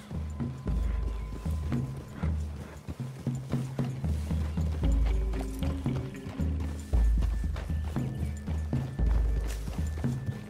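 Steady hoof clip-clops from horses moving at a walk through trees in Red Dead Redemption 2, layered over a continuous low rumble and faint mechanical clicking.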